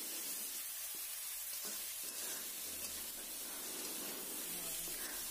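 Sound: sautéing vegetables with chopped tomatoes for pasta

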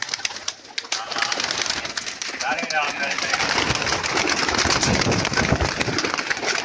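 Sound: pigeons in a loft

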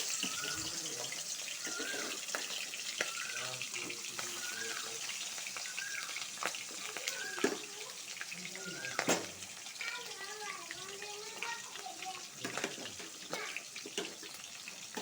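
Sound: spices frying in hot oil in a wok

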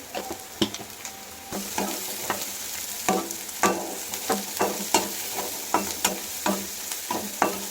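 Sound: mushrooms frying in a pan with turmeric

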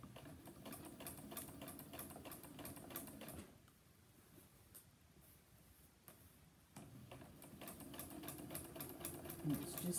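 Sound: sewing machine top stitching a satin pillow case

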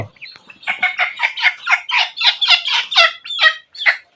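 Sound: desi chickens clucking

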